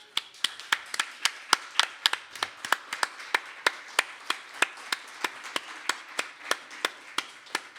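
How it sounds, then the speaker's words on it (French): Applause at a book launch evening, heard as crisp, regular claps in a fairly quiet room, a sparse rhythmic pattern of hand claps, roughly three to four per second, steady and moderately close. "je vous donne une main d'applaudissement"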